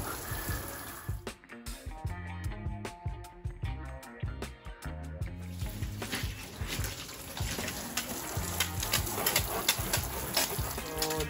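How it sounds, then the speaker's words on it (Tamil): Water gently sprayed on a car around the tyre area during a home car wash without a machine, a close splashing and trickling that pulses in irregular bursts and briefly drops out before resuming. "ஜஸ்ட் ஜென்டிலாக வாட்டர் மட்டும் விட்டுருக்கோம்."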